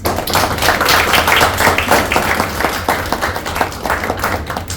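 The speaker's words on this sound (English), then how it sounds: "Let's give our executive committee a round of applause." Loud, close audience applause for an executive committee at a club meeting, many hands clapping in a dense, steady burst with sharp individual claps standing out, easing off slightly toward the end.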